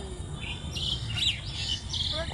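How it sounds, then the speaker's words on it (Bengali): Birds chirp and twitter over a quiet open field after rain, with several short bright calls coming in bursts above a low ambient rumble. "আর পাখিদের ডাক কুচুর মুচুর করছে"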